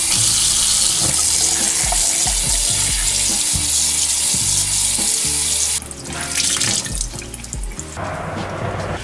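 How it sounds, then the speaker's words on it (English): Wet base layer clothes, merino wool and synthetic, are wrung out, sending water splashing and streaming down in steady pulses, then a sharper spill and dripping near the end, close and fairly loud. "I shook them both out, wrung them both out."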